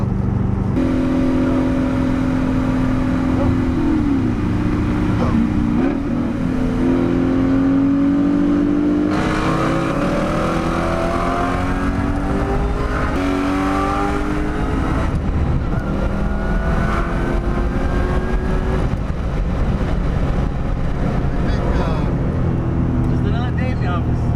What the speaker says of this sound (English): Bouncing on a rev limiter